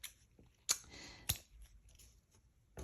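Small scissors snip the ends of paper clematis flower pistils in a papercraft setting, two or three crisp, close cuts with short pauses in an otherwise quiet room.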